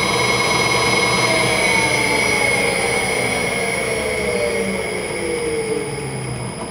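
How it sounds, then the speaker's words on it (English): A big electric motor drives a low-speed StarPower generator, producing a loud, steady whine with tonal hums that slowly shift in pitch as it spins, continuous and close with no talking. "All you're hearing, the only noise you hear, is from that big motor."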